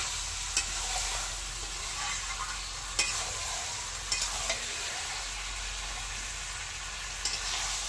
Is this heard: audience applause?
no